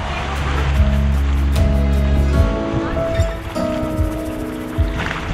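Sea waves wash around a boat in the Andaman Islands, a steady rushing swell mixed with engine hum and voices nearby throughout.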